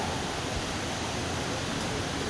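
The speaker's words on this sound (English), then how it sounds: "I see a waterfall" Steady, dense roar of a waterfall echoing inside a cave, a constant broadband rush with no breaks or voices.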